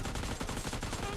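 Rapid bursts of AKM rifle fire in a mobile battle-royale shooter game, with dense, sharp repeated shots close and loud throughout.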